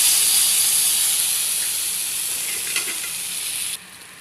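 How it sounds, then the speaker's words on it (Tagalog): Garlic, onion and ginger sautéing in a pan as the base for squid adobo, a loud close continuous sizzling hiss that eases slightly and then drops off sharply near the end. "Ngayon, igigisa na natin ang bawang sibuyas at luya."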